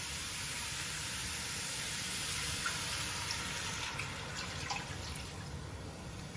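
Water, about one and a half cups, poured into a pot of pork and rendered fat on a hot stove over high heat, a steady rushing splash with a faint hiss, close and continuous.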